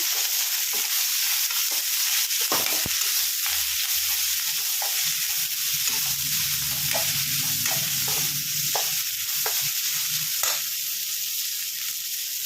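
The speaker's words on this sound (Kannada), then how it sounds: "ಪುದೀನ ಕೊತ್ತಂಬರಿ ಎರಡು ಹಾಕ್ಕೊಂಡು ಫ್ರೈ ಮಾಡ್ತೀನಿ" Mint and coriander leaves fry in a pan with a steady, bright sizzle, broken by occasional stirring scrapes and clinks, close and continuous with no talk.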